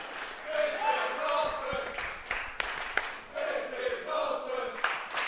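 Wrestling crowd at a DOA show cheering and clapping in waves, with sharp claps and impacts cutting through and a commentator talking over it.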